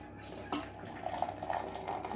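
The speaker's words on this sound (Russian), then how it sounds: "Заливаю кипятком." Boiling water poured in a thin, steady stream into a glass over ground coffee, quiet and close, the splashing rising gently as it fills.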